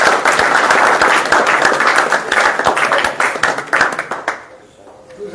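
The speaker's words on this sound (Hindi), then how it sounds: "तालियां बजाकर स्वागत करो भाई।" A crowd at a natural-farming gathering in Rajasthan claps in welcome, a loud, brisk run of many overlapping hand claps that keeps going for about four seconds, then tapers off into quiet.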